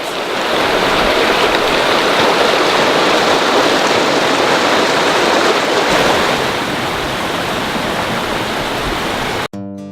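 Rain-swollen Malibu Creek in Malibu Creek State Park, southern California, rushes past in a loud, continuous wash of flowing water with no voices, steady until an abrupt cut at the very end.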